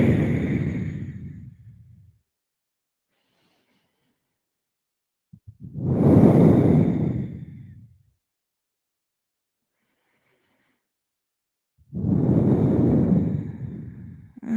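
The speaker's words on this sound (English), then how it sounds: "and breathing out." Three long, breathy exhalations during a yoga practice, each lasting about two seconds with quiet pauses between, close and fairly loud with no voice over them.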